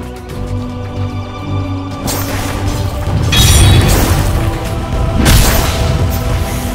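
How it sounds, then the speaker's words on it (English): A tower crumbling in the game Dota 2: heavy rumbling booms and crashing debris swell over a steady background tone, peaking twice in loud close surges. "Dire's top tower has fallen."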